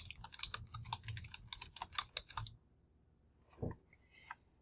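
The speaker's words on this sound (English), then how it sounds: "So you're going to type in that description here." Quick bursts of typing on a computer keyboard while a course description is entered, close and crisp keystrokes in rapid clusters, then a pause and a few last isolated clicks.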